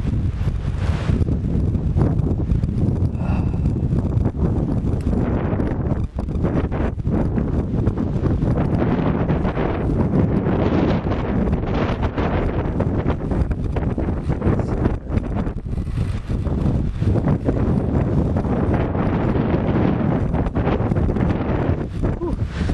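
Strong February wind gusts outdoors in northern Delaware roar loudly and continuously across the microphone, a dense buffeting rumble that barely lets up for the whole stretch.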